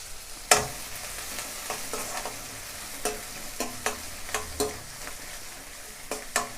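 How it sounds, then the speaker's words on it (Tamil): Medium-sized onion dropped into hot oil for egg fried rice, giving a sharp burst of sizzling followed by steady frying with repeated clinks of a spatula stirring in the pan, close and clear with no talking. "நான் இப்போது ஒரு வெங்காயம் சேர்த்துக்கிறேன்"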